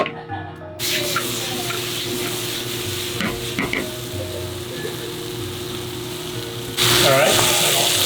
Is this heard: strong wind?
no